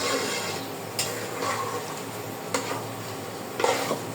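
A spoon stirs khichuri made from leftover rice in a pot, soft scraping strokes with a few sharper knocks against the pot over a low cooking hiss, close and unaccompanied by speech.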